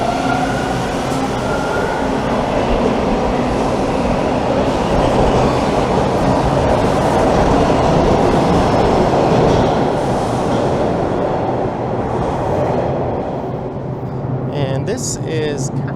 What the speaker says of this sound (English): We'll wait for this noisy train to depart.